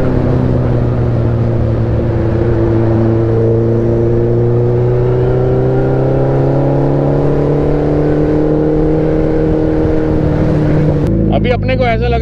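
Kawasaki ZX10R motorcycle cruising on an open highway, a steady loud engine drone with sustained harmonic tones that shift slightly in pitch, ending with an abrupt change near the end.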